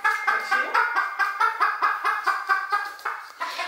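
Chickens clucking in a quick, steady run of short repeated calls, fairly close and clear, with no talking.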